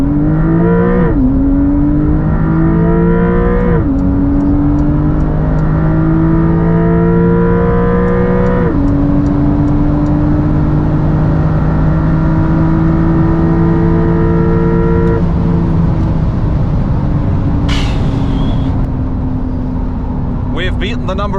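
A 2024 Porsche 992 GTS accelerates hard at full throttle, its engine climbing loudly through the gears with repeated shift drops, heard close and sustained from inside the car as speed builds toward top end.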